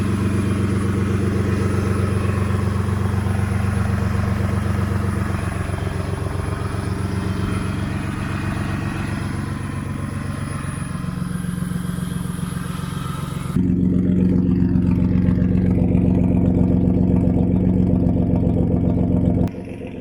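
A 1993 BMW E36 drift car with no catalytic converters idles with a steady, throbbing mid-pitched engine note, then the tone shifts louder and deeper for several seconds before dropping near the end.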